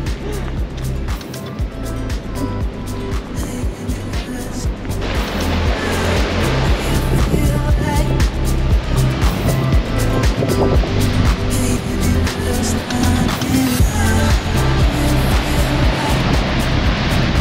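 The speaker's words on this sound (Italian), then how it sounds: "sono veramente dei muri, sono delle onde grandissime, grandissime" Huge ocean waves pounding the shore at Nazaré, Portugal, a heavy continuous roar of surf that swells louder midway, heard outdoors in the rain with a steady low rumble.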